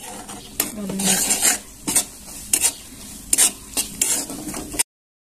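Fried cashews, almonds and sabudana flour being stirred in a pan over low heat, with repeated sharp scraping strokes and a soft sizzle, close and fairly loud, no talk.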